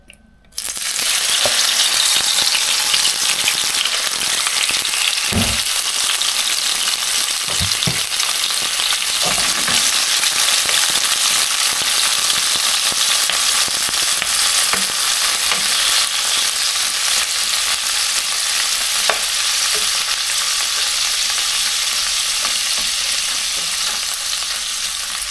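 Squid sizzling and frying in hot oil, a dense steady crackle that stays loud and close throughout with occasional clatter, no voices.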